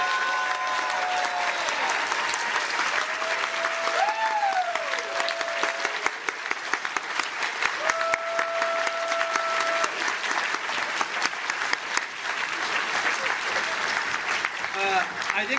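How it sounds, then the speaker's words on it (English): A banquet audience at a gaming convention gives a standing round of applause, sustained thick clapping throughout with a few whoops and cheers rising above it, moderately distant in a large hall. "Could you guys please stand up for a well-deserved round of applause?"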